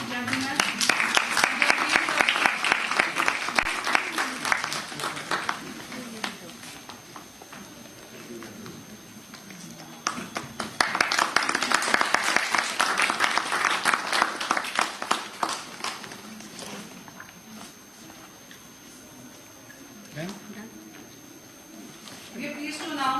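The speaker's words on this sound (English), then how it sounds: "A big round of applause, ladies and gentlemen." Conference audience applauding at a live academic event, with two long swells of dense, sustained clapping filling the room and a quieter stretch between them.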